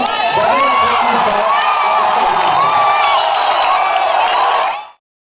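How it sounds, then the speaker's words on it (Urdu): A mushaira (Urdu poetry gathering) audience at Jashn-e-Baharan breaks into loud, sustained applause mixed with cheers and whoops, a dense crowd roar lasting about five seconds before cutting off abruptly. "محترم ابرار کاشف زوردار تالیوں میں"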